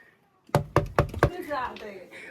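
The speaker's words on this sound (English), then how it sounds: "please knock." Four quick knocks on a door at a lemonade stand along a coastal lemon path in Amalfi, evenly spaced and close, followed by faint ambient murmur.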